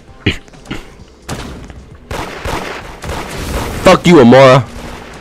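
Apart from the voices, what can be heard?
gunshots fired at reindeer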